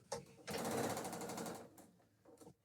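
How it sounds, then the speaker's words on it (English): A sewing machine with a walking foot stitches quilt pieces together in a short close burst of whirring and needle chatter, followed by a couple of brief quieter pulses. "I'm just sitting and not thinking about anything, just sewing it together"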